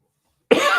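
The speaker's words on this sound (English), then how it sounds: "the cough sounds nice with the echo, doesn't it?" After brief silence, a single sharp cough rings out and lingers with a roomy echo.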